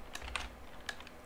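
A few quick keystrokes on a computer keyboard tap out a short name, soft and close, with small clicks scattered over about a second in a quiet room with no talking.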